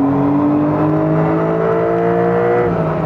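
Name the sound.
tuned Porsche 992 Carrera T engine revving to redline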